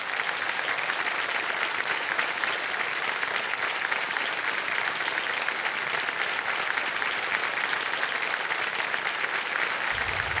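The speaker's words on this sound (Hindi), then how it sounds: "एक बार जोरदार तालियां बज जाए इनके लिए" A studio audience on the KBC Season 17 quiz show claps loudly and steadily for about ten seconds. The dense, even applause carries no talk and stops abruptly right at the end.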